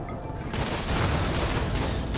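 Thunderbolts and explosions in the RimWorld video game form a dense, continuous rumbling barrage of booms and crackling blasts, loud and sustained throughout, with no talk.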